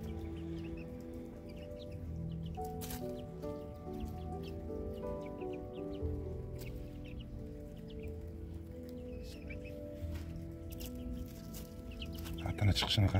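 Long-tailed phoenix roosters cluck intermittently outdoors, soft and moderately distant, with someone talking over much of the scene.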